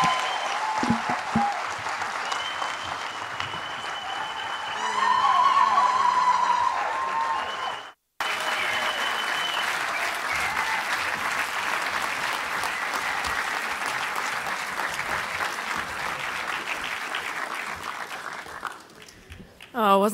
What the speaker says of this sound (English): give Melinda French Gates a resounding round of applause and even a ululation.